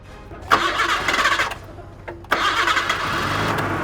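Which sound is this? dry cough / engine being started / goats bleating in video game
engine being started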